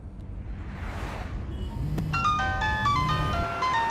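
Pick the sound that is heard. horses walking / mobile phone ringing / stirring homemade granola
mobile phone ringing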